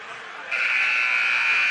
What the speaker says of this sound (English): The second buzzer is sounded as both teams are making their way out of the huddle